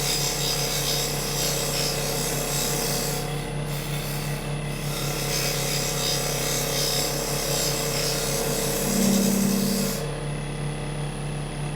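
A wood lathe turns a banjo part as fine gossamer shavings come off, giving a steady, continuous scraping rasp with a low running hum, near and unbroken throughout, with a brief rise in pitch late on.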